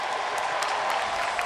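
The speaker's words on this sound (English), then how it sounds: "Listen to this crowd" A baseball stadium crowd roars and applauds for pitcher Paul Skenes, a dense, steady wash of cheering and clapping from many fans without a break.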